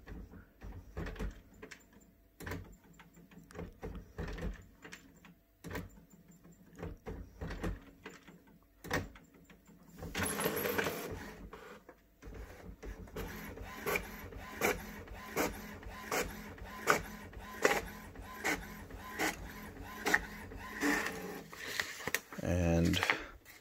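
An HP Officejet Pro 8600 inkjet printer runs for a long stretch, whirring and clicking as it feeds and prints a page, with mechanical clunks and some talking underneath.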